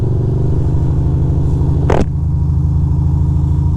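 A car's engine rumbles steadily up close as it moves along a park road in Astoria Park, broken by a brief rushing burst partway through, then settling back into the same low hum.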